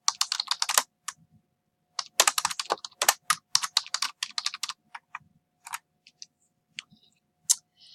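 Typing on a computer keyboard while entering a name: quick, close bursts of crisp key clicks, the first dense run breaking off, then another run, then trailing scattered taps, with no voices.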